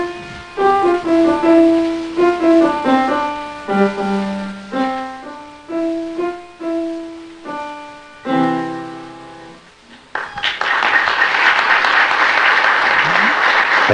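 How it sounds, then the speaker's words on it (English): Audience applause breaks out at a church Christmas program, loud dense clapping that follows a solo piano piece of distinct notes and builds quickly to a sustained, full round. "receiving a good cheer from out of it"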